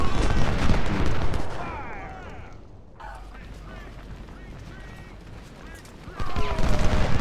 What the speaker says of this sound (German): Ich höre Kanonen vom wo?